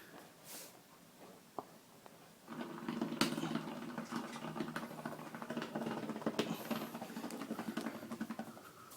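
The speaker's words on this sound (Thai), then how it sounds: "มันมีเสียงมันดูดน้ำปุ้งปุ้งปุ้งปุ้งปุ้งอยู่ข้างล่าง" A Philips GC502 garment steamer pumps water with a quiet, rapid patter of soft thumps that starts a few seconds in and runs on steadily, close by.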